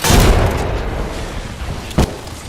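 A frag grenade bursts in a shooter video game with a loud, broad boom up front, a rumbling decay, then a second sharp blast about two seconds later.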